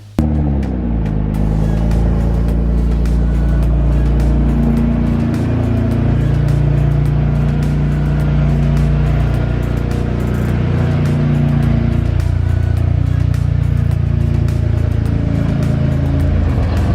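A Nissan GTR fitted with a stage 2 cold air intake drives along, its engine droning steadily and loudly close by while the pitch rises and falls gently with speed.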